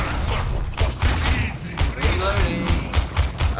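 Repeated gunshots fired through cover in Warframe, a series of sharp, fairly loud bursts at an uneven rhythm, each with a brief metallic ring.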